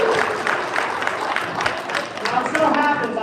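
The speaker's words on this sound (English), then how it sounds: "Round of applause for David" An audience at a Rutgers Day children's science lecture claps in a steady, dense patter that holds for a few seconds, mixed with crowd noise and a voice speaking over it.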